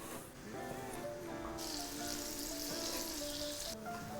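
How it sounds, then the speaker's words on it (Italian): Pancetta sizzles and crackles in a pan with a steady frying hiss, while faint tonal kitchen sounds ring underneath. "lascio sfrigolare la pancetta"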